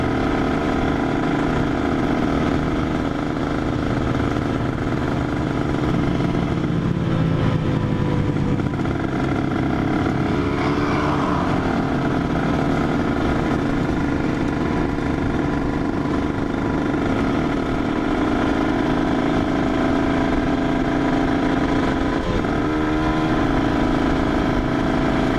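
A tuned Honda NSR 150 two-stroke motorcycle drones loudly and continuously as it accelerates, the engine note rising and shifting through revs over a long stretch, close to the listener with wind and road noise and no talk.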